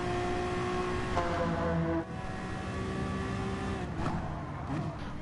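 Racing cars in a GT sim-racing game at the Autopolis circuit hold a steady, droning engine note, shifting pitch through gear changes and with a brief dip, with no talk.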